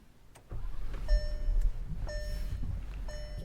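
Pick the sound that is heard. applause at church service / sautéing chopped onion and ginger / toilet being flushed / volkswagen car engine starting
volkswagen car engine starting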